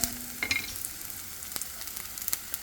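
Onions and garlic fry in a pan with a short, steady sizzle, dotted with a few crisp pops and spatters.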